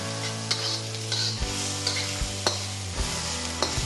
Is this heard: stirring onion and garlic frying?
yes